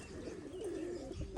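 Pigeons coo steadily at a courtyard roost shaded by dense trees, a low continuous warbling murmur held at moderate level with a faint chirp near the end.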